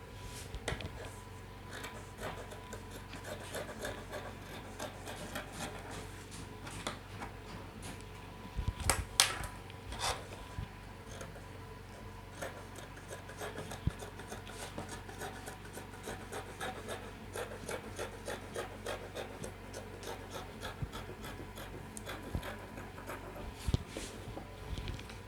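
Scissors cutting fabric for a flare skirt: quiet repeated snips and rubbing of cloth over a faint steady background, with one louder clatter near the middle.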